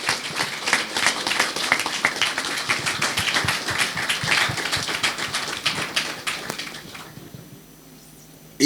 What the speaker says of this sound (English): Please, a resounding round of applause for him